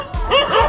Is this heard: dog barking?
yes